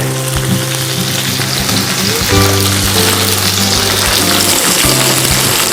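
Salmon pan-searing in a frying pan gives a loud, close, continuous sizzle with crackling spatter, alone without voices, alongside a low steady hum.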